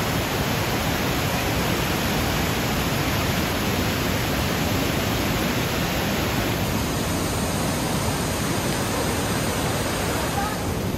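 Steady, dense roar of water pouring down at a waterfall in the Watkins Glen State Park gorge, heard from above the falls, loud and unbroken for the whole stretch.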